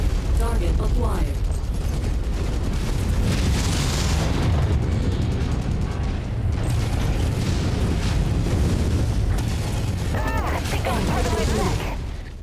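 SRM missile salvos launching and exploding during a MechWarrior 5 combat mission, a long, loud rumbling barrage of blasts and mechanical clatter with brief sharper bursts and radio-style voices speaking over it.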